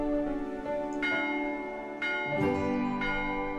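Repeated chimes of a bell struck in the video game Old Man's Journey, about four clear, ringing strokes roughly a second apart, each decaying under soft background music.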